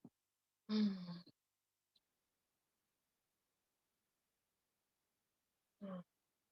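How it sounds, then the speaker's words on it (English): Deep yoga breaths during a Kundalini practice: a long, breathy sigh-like exhale near the start, then silence, and a shorter exhale several seconds later, both close and soft with no other sound. "A couple of nice deep breaths here."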